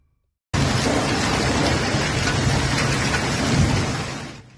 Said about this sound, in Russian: разразилась гроза с проливным дождем, во время которой пошел сильный град